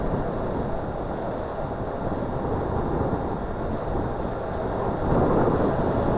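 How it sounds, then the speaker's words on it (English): A strong breeze buffets the microphone outdoors, producing a steady, loud low rumble that swells slightly near the end, with no one talking. "It's crazy how breezy it is."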